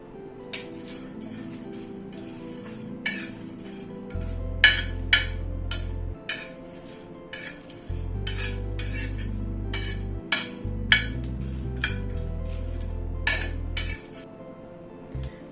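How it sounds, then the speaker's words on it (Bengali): Dry red chillies and spices are roasted and stirred on a hot tawa: a run of sharp metallic clinks and scrapes at uneven intervals over a low, steady hum, with no voices. "শুকনো লঙ্কাটাকে একটু রোস্ট করে নেওয়ার পরে সব মশলাগুলো দিয়ে দিচ্ছি।"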